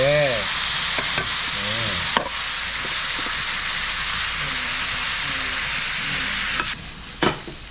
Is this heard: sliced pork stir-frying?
yes